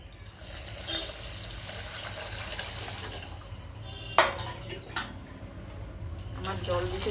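Water poured steadily into a cooking pot for aatop (sun-dried) rice, a continuous rushing wash with a brief splashy burst partway through, close and fairly even in level.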